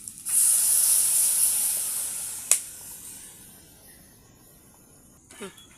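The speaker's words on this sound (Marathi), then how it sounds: "आता आपण त्याच्यावर पाणी टाकणार" Water poured into a pan of frying crab masala for a village-style crab curry sets off a loud, broad hiss that surges at once, holds steady, then slowly fades, with a sharp clink midway and another brief knock near the end.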